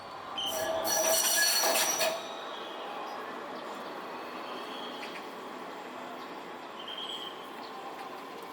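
A Wirye Line tram's wheels squeal on a curved section of track, a loud high-pitched screech peaking early and then fading to a steady rolling rumble as the tram passes.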